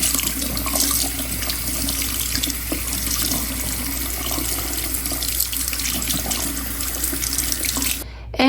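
Tap water runs steadily into a sink while a vintage 1960 ponytail Barbie doll is washed, a close, continuous splashing hiss that breaks off briefly near the end with no talking.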